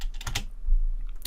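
A computer keyboard is typed on in a short burst of clicky keystrokes, several quick taps close together, a pause, then another key press, loud and close with no talking.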